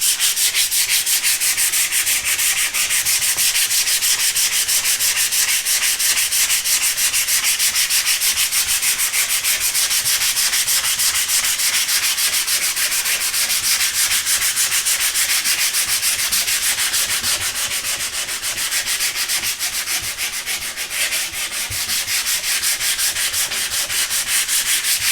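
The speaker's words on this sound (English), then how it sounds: "you just need to go over this polyurethane with some sandpaper, then come back and put another coat on" Sandpaper rubbing over a polyurethane finish on a wooden shelving color sample, a steady continuous scratchy hiss of back-and-forth strokes held close and loud throughout, with no talking.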